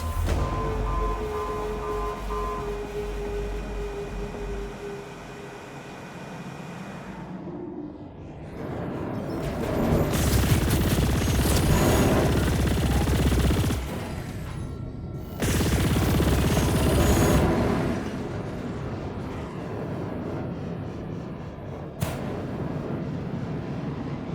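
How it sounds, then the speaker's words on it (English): Heavy gunfire from the space-combat video game Chorus erupts in loud, dense sustained bursts, separated by brief lulls and a sharper isolated blast. "Nice shooting."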